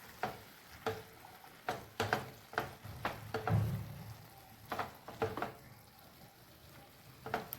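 Drained pasta tipped into a red chili sauce in a pan and stirred, with a spoon clacking and scraping against the metal in irregular strokes over a faint sizzle. No one speaks.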